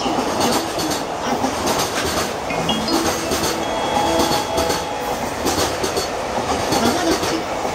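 An EH500 electric locomotive hauling twenty Koki container freight wagons rolls through Saitama-Shintoshin station. Rumbling, clattering wheels and rail noise continue steadily and loudly throughout, with brief faint squeals from the wheels.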